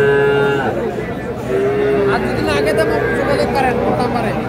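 At a busy livestock market, cattle and young calves give a loud, drawn-out moo close by, over a steady hubbub of crowd chatter and talk.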